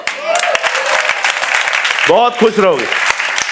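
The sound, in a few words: audience applause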